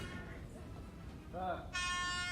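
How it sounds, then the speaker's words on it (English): An air horn blares at the end of a crowded fan Q&A, loud and sustained after a murmuring room with a voice speaking under it. "they brought an air horn."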